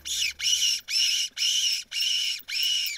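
A hunting whistle blown in six repeated squealing calls imitating a distressed rabbit to lure foxes, each call sharp and fairly loud with short gaps between, with no other sound behind them.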